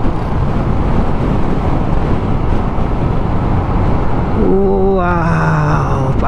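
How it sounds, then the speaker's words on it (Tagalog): Strong wind roars and buffets the microphone in a constant rush during a motorcycle ride uphill, and a voice briefly speaks near the end. "Ang lakas ng hangin, no?"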